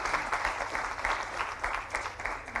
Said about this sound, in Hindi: तालियां आपकी तरफ से।